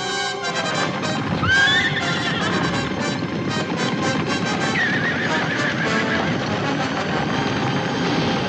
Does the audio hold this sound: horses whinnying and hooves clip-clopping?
yes